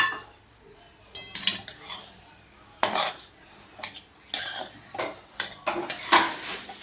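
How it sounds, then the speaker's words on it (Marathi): A spoon scrapes and clinks against a pan while sugar is stirred into mango sheera, giving irregular metallic strokes that are close and fairly loud with short pauses between them. "तर आपल्याला साखर पण मिक्स करून घ्यायची आहे व्यवस्थित."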